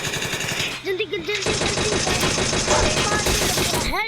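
Rapid automatic gunfire in a bike rider gameplay session, a loud rattling stream of shots lasting several seconds, with someone talking excitedly over it.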